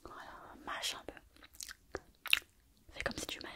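Close-miked chewing and biting in a whispery ASMR setting, with soft crunchy mouth sounds coming in irregular bursts against near silence.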